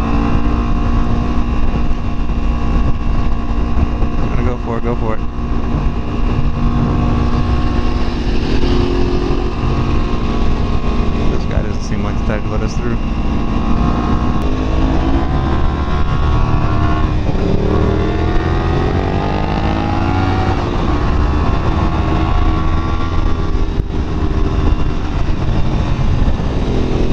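A Yamaha FZ-07 and a 300 motorcycle ride together on Angeles Crest Highway, engines droning and rising and falling in pitch through gear changes under constant heavy wind buffeting, loud and continuous with no talking.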